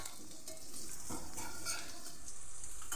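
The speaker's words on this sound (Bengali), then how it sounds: "পিসগুলোকে শেপ করে কেটে রেখেছিলাম, সেটাই এখানে ভেজে নিচ্ছি।" Shaped pieces of dhoka lentil cake frying in oil in a pan, a soft steady sizzle with light bubbling and a faint stir, quiet and close with no voices.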